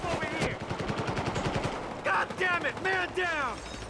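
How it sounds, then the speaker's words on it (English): Gunfire in the Battlefield Hardline video game: a rapid run of automatic shots for about two seconds, then scattered louder bursts mixed with voices and game sounds. "They're shooting at me."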